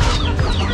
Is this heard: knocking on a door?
no